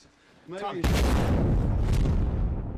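A sudden loud blast bursts in after a brief voice, then a dense roaring rumble lingers and rolls on for a couple of seconds.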